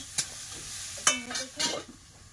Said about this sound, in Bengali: এদিকে ভাজাটা হচ্ছে